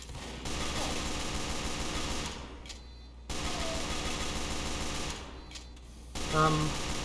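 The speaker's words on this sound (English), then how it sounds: "Oh, that's a sentry gun up there." A Team Fortress 2 sentry gun firing in rapid, rattling bursts, two sustained volleys separated by short gaps, fairly close, with game sounds around them and a brief beep near the end.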